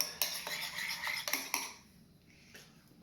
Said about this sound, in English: Then just give that all a nice mix together.